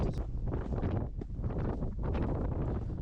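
Strong, constant wind gusting at 20-plus miles per hour across the freezing Lake District summit of Haystacks, buffeting the microphone in a loud, continuous roar with no break.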